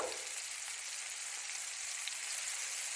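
Algerian-style beef meatballs fry in a hot pan with a steady, dense sizzle that stays loud and even throughout, with no talking.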